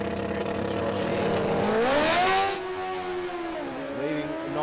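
A drag race car launches hard off the line at a state championship meeting, its engine roaring loud and close with a rising, sweeping pitch that drops back as it pulls away.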